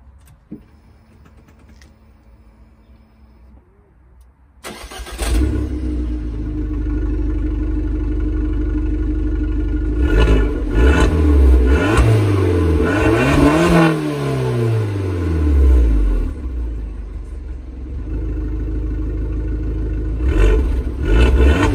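An Abarth 595 engine starts after a quiet interior, then drives with a loud, close engine note that swells through rising and falling revs, as heard from inside the cabin.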